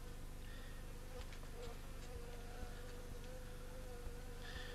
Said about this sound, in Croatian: Sada možemo ove pčele postepeno i puštati